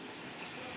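Steam hissing out of a pressure cooker after the heat is switched off, a steady, close broadband hiss with no break.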